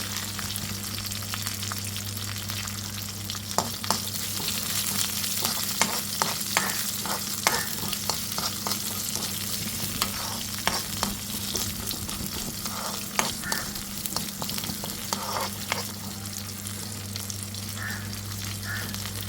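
Small shallots sizzle in hot oil with a continuous frying hiss, broken by scattered pops and the scrape of stirring, all heard close up and without speech.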